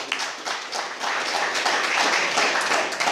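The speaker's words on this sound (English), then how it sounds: "Give him a big round of applause." Applause from the audience at a white collar boxing club event as a fighter is introduced, a short steady burst of clapping with no talk over it.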